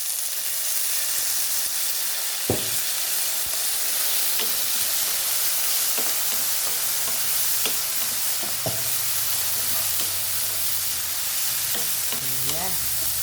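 Chicken stir-frying with black pepper and oyster sauce in a pan for a bitter gourd lunch dish, giving a steady loud sizzle and hiss punctuated by several sharp utensil scrapes and clinks.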